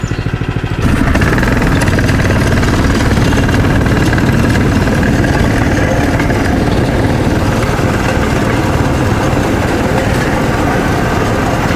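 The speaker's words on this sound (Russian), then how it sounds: "Ладно, бензопила, настало снова твое время." A loud chainsaw engine starts up and runs continuously at close range, a steady buzzing drone with a throbbing low rumble.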